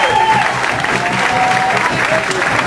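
Applause from a crowd at a salsa dance night, sustained clapping with cheering throughout and an announcer's voice speaking over it.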